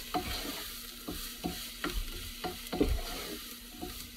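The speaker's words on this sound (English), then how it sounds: "And I will stir that around" Vegetables sweat over low heat in a pan for venison spaghetti while a spoon stirs them in repeated scraping strokes about every half second, over a soft continuous sizzle.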